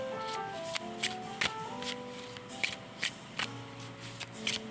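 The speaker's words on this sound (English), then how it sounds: "I shuffled too tight, and these cards are very new" New shaman oracle cards are shuffled by hand in a series of crisp, rhythmic riffles and snaps, roughly a dozen sharp bursts recorded up close in a quiet room with faint background tones.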